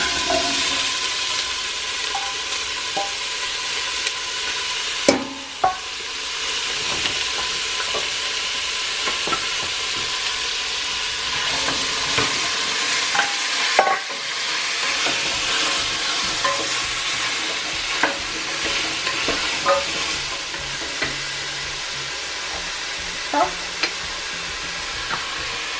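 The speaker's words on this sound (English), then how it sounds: "I'm going to go ahead and drop our olive oil. And then all of our veggies." Vegetables sizzle steadily in hot olive oil in a pan, with a continuous broadband frying hiss punctuated by occasional clicks and clatter of stirring, and no voices.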